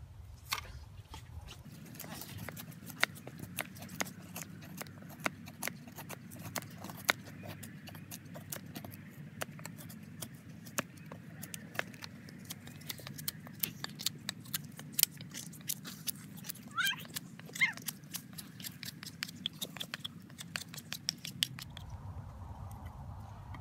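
A Diving Sparrow Woodsman knife carves into wood with a rapid run of close, crisp cuts, scrapes and small snaps over a low steady hum, ending in a quieter tail.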